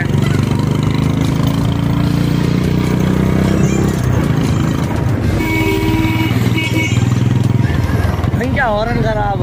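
A motorbike runs at a steady engine drone during a morning ride on a mountain road, with people talking over it throughout and the engine continuing beneath.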